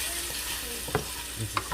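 Food sizzling in a pan while it is stirred, a close steady hiss broken by a couple of sharp scraping clicks from the utensil.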